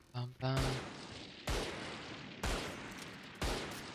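Four loud, evenly spaced gunshots about a second apart from a Valorant match, each a sharp crack trailing into a ringing decay, after a brief tonal game chirp.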